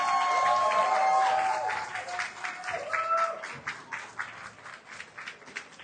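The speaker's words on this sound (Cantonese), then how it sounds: "請大家俾啲掌聲兩位。" Audience applause rises for two Muay Thai fighters at the end of a bout at a UGF combat event, a broad steady clapping that thins out over a few seconds while an announcer speaks over it.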